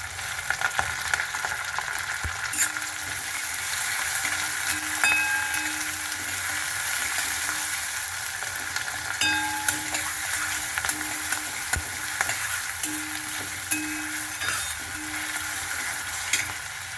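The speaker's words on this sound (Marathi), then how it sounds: "आता हे बघा कढीपत्ता टाकायचा आहे." Curry leaves sizzle and crackle in hot oil for Gujarati-style dal dhokli, a steady loud frying hiss with scattered pops and occasional stirring clinks, no talking.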